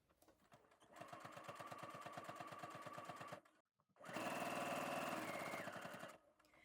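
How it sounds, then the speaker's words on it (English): A sewing machine runs a straight stitch through slipper fabric in two steady bursts of rapid, rhythmic needle chatter, separated by a brief pause; close and fairly loud, with no talking. "You're going to sew with a straight stitch."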